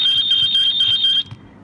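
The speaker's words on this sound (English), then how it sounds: "We get alarm." A network camera app sounds a loud electronic alarm, a high pulsing beep pattern repeating for over a second before cutting off abruptly, alone with no talk.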